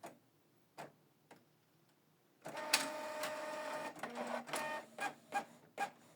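A Canon MG3650 inkjet printer prints a network configuration page, starting with a few isolated clicks, then a steady mechanical whir with rhythmic ticks and feed thumps, close and clear.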